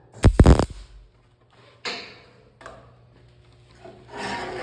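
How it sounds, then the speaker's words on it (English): A grinder works over a carved jack-o'-lantern pumpkin, with a loud burst of grinding at the start followed by several softer, rasping passes separated by short pauses. "Grinder, gonna grind it a little bit more."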